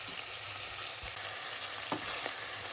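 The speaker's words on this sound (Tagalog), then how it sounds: "Bago natin sabawan, ginigisa ko muna siya." Leftover roasted pork belly being sautéed with tomatoes in a pan, a soft, steady sizzle and crackle with an occasional faint clink of a spoon stirring, heard up close without any talking.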